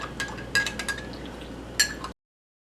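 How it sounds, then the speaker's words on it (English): A spoon clinks repeatedly against a glass or cup while stirring black seed oil into honey, with close, bright taps in an irregular rhythm and no talking. "Now this is actual black seed oil mixed with honey. And you're going to keep mixing that until it breaks down."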